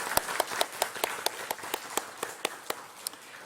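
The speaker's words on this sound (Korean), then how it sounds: "우리 연합회 임원들을 위해서 다시 박수를 한번 격려하겠습니다" A church congregation claps in encouragement for its association officers, a sparse run of distinct, fairly regular hand claps, moderately faint and without anyone speaking.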